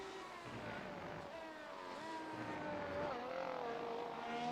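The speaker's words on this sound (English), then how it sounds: "And now you have that growl of the engine at low speed as well, which has its own nice characteristics." An F1 racing video game car engine growls at low speed, a steady buzzing drone with slowly shifting pitch, held at moderate level for several seconds.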